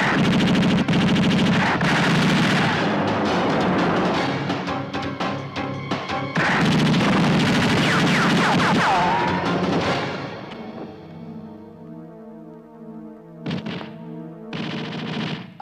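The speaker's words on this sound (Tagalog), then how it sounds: "kaya sila ay binaril ni Major Durango." Machine gun bursts and gunfire in a Filipino action film shootout with hold-up men, loud and dense for about ten seconds, then tapering into scattered shots and echoes with quieter gaps.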